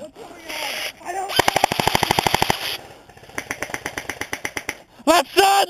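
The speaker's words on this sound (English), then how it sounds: "Ryan, Dude, that shot me in the chest" Airsoft guns fire in long rapid bursts during an outdoor skirmish game, loud and close, with two sustained strings of shots separated by a pause. Players shout briefly around the firing.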